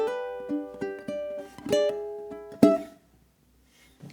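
A ukulele plays the ninth measure of a song, a quick run of plucked notes and strummed chords ending on a final strum, close and moderately soft, then fading to silence.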